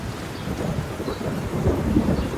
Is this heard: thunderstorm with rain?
yes